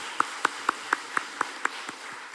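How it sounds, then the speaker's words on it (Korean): A church congregation clapping in praise, heard as eight or nine evenly spaced, crisp claps in a slow steady rhythm, fairly close, with quiet gaps between them. "우리 한번 박수로 찬양과 영광 올려드리면 좋겠습니다"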